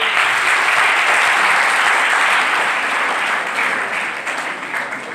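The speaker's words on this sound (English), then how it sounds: "Please clap for Norway." A large college audience at a career counseling event applauds steadily, a dense wash of clapping that holds for several seconds before tapering slightly toward the end.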